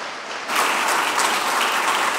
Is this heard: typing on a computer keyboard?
no